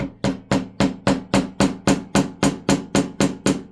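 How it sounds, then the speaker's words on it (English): Frets are hammered flush into a Kramer Baretta guitar neck, fourteen sharp, evenly spaced taps in a steady rhythm, close up and alone. "And give them a hammer."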